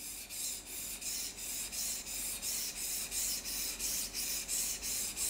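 Rhythmic back-and-forth strokes of a knife blade across a whetstone, sharpened freehand without a guide rail, about two gritty swishes per second, close and even, with no voices.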